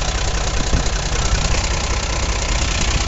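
A turbocharged engine runs at a steady idle, a loud, close, low rumbling drone with a faint knocking pulse and no voices over it.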